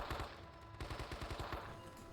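Rapid bursts of automatic gunfire in the World War II shooter Men of Valor, a loud stuttering volley of machine-gun shots continuing steadily over low rumbling battle noise.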